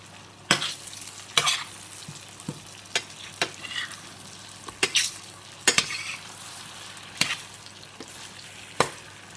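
Ravioli stirred in sizzling burnt sage butter in a pan off the heat: a steady soft sizzle runs throughout, broken by repeated close scraping and clinking stirs at uneven intervals, with no talking.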